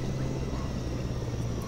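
A helicopter in the dinosaur park management game Jurassic Park: Operation Genesis gives a steady, unbroken rotor drone with a low hum underneath. It plays alone at an even level throughout.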